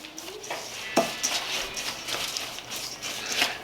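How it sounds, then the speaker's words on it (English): Coconut oil is stirred by hand into a crumble topping mixture in a bowl, giving soft, close scraping and clinking strokes with a few sharper knocks, fairly quiet. "1/2 cup of coconut oil. Just going to stir that up"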